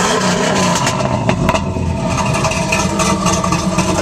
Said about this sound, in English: It's got a Flowmaster exhaust.